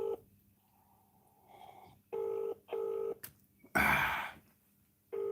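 Telephone keypad tones beep in short, evenly spaced bursts as a number is dialed on a phone, with a brief rustling burst between them. The tones are fairly clear against a quiet background, and no one talks.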